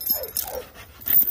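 A working kennel dog gives a brief burst of soft whimpers and breathy panting, close by and alone, lasting about a second.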